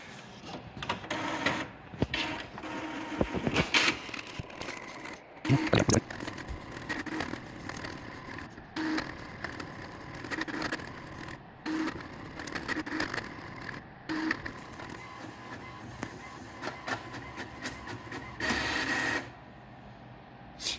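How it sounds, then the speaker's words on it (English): A printer runs steadily, whirring and clattering in rhythmic mechanical bursts as pages feed through, ending with a short louder whir. "Go up to the printer."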